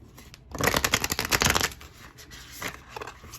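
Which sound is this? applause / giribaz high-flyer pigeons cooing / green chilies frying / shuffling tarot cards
shuffling tarot cards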